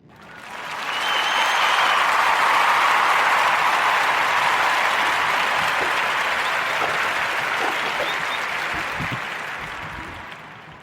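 Warm applause rises quickly, holds as a dense, loud wash of many hands clapping for about ten seconds, then tapers off, with scattered cheers near the start.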